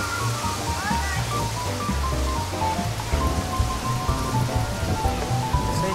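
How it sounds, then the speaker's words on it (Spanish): Fish stock pours into a paella pan, a dense continuous splashing wash that fills the whole stretch at close range, with faint voices and kitchen sounds mixed underneath. "Ahora ponemos el fumé."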